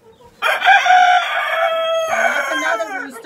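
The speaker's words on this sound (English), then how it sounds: "That's another rooster that's visiting for reproduction purposes. And he's very loud." A loud Americana rooster crows once up close, a long drawn-out harmonic call that breaks partway through and trails off, with no talking.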